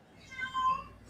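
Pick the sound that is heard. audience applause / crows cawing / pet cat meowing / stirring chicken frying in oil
pet cat meowing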